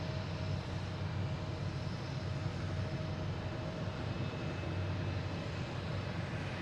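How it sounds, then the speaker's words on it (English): A Delta Airbus A321neo arriving from Salt Lake City at Boston Logan International Airport gives a steady, broad distant jet roar that holds at an even level throughout, with no other sounds standing out. "this Delta coming in from Salt Lake City comes in"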